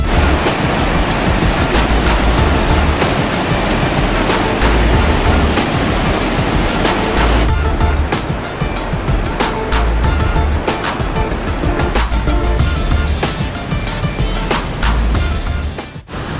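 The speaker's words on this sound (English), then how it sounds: "right behind me, that's Victoria Falls" Victoria Falls roars from the Zambia side as a dense, steady rush of falling water, loud and close, with constant spray noise and no talk.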